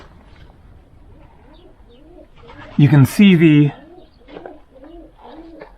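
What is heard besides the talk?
pigeons cooing at dovecotes on Tinos island, Greece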